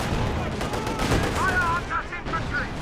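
A ZiS artillery barrage strikes during a Company of Heroes 2 match, a loud, dense stretch of booming blasts and crackling gunfire that rumbles on for about three seconds.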